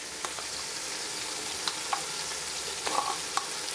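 Whole spices frying in hot oil in a pan for biryani make a steady, close sizzle with occasional sharp pops and light stirring clicks, and no one speaks.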